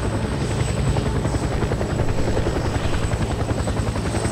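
Helicopter in the battle royale game Fear The Wolves, a loud, steady rotor thrum with a constant whine, heard continuously from inside the cabin with no voices.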